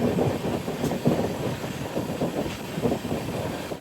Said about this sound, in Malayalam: മംഗളൂരു ജംഗ്ഷനിലേക്ക് ഇതാ ട്രെയിൻ എത്തുകയാണ്